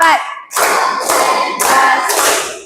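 Loud, sharp hand claps in a clapping game, four distinct claps in an even rhythm after a brief opening sound, close and clear with no talking over them.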